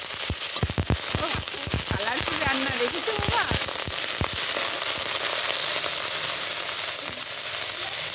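Pots of dal and khichuri bubble and sizzle on a home stove, a steady hissing bed with crackling pops under nearby voices talking through the first few seconds.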